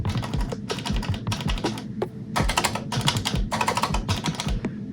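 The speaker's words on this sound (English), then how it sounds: "this has an actual activation click like a keyboard." Crown arcade buttons fitted with blue Cherry MX switches clicking in quick rapid bursts, sharp crisp keyboard-like clicks with short pauses between runs, close and alone.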